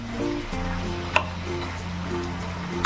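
Chicken sizzling in an uncovered pan over a raised gas flame, a steady close frying hiss with a low hum beneath and one brief clink, no talking.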